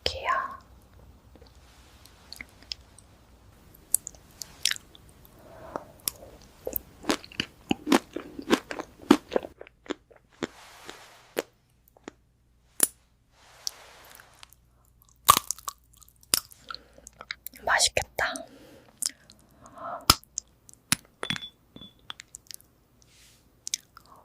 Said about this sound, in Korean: 오늘은 유리 행성을 먹어볼게요